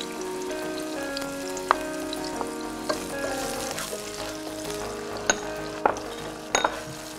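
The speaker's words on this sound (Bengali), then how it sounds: "চপ অনিয়ন দিয়ে নিই" Chopped onions frying in a pan, a quiet steady sizzle broken by several sharp clinks of a utensil against the pan.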